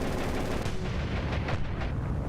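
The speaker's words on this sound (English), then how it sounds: "depth charge plus machine gun fire normally equates to an explosion" Naval machine gun fire in the War On The Sea video game, a dense continuous roar of rapid gunfire with layered bursts, loud and close throughout without talk.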